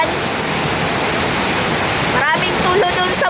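Rainwater leaks through a house roof, making a loud, continuous rushing and splashing wash of water, and a voice briefly rises over it near the end.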